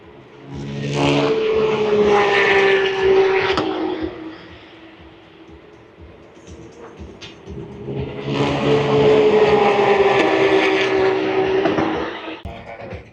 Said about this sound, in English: While the GT3 cups are ripping right now here.